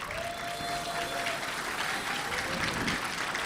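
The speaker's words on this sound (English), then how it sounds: "all the dignitaries on the dais will receive a big round of applause." Steady applause from an audience at the Sunhak Peace Prize ceremony, moderately distant and even in level, with a faint tonal hum and background murmur underneath.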